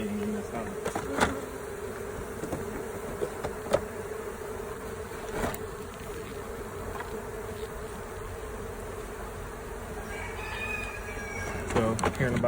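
Honey bees hum around an open hive in a steady, dense buzz, with individual insects passing close at moments over a constant background drone.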